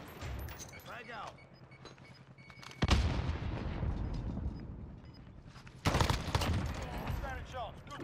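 Two heavy frag grenade blasts in Call of Duty Warzone, each a sudden booming burst that rumbles and fades, spaced a few seconds apart amid steady game noise, with players talking over the action.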